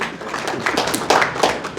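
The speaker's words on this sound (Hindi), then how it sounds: "आपके लिए ताली बजाइए।" An audience gives a brief burst of scattered hand clapping, a few loose claps building into thin applause, close and alone without talk.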